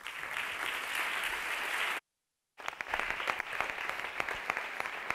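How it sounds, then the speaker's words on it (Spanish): Steady applause from a congress opening audience fills the clip, broken by a brief half-second silence before the clapping resumes with sharper individual claps. "Un aplauso para ellos, por favor."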